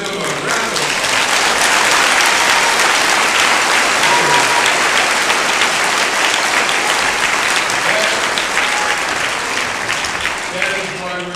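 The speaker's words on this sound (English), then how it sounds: "Let's give them a round of applause." Sustained applause from an assembly audience honouring active and retired National Guard veterans at a Veterans Day school gathering, steady and dense throughout with faint voices mixed in, easing slightly near the end.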